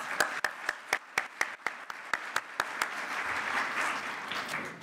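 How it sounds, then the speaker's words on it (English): A small audience at a closing ceremony in London claps, sharp sparse claps at first in a loose rhythm, then blending into a denser, softer wash of applause that fades slightly toward the end. "I think they deserve a round of applause"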